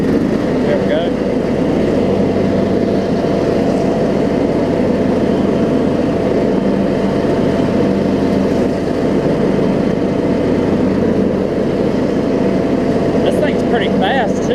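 A John Deere LA 105 riding mower drives along with a steady, loud engine drone and continuous rumble throughout, a person speaking over it now and then.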